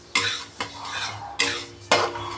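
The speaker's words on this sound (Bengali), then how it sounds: "আর এই যে মুগের ডালটাও বসিয়ে দিয়েছি, ওটা ভাজা করে নেব" Moong dal roasting in a pan at home, scraped and stirred with a metal spoon in four quick, close strokes over a low background hiss.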